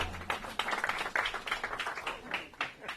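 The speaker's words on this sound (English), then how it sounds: "give him a round of applause" An audience at a government press event announcing Amazon's New York City headquarters applauds, a soft, distant patter of many hands clapping steadily throughout.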